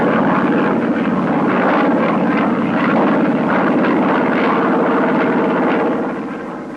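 A military strike plane's engine drones loud and steady in flight throughout, fading slightly near the end, with no voices over it.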